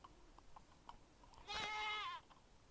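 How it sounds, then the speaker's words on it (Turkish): A Minecraft goat bleats once, a wavering, nasal cry lasting under a second, standing out clearly over faint background noise. "keçi."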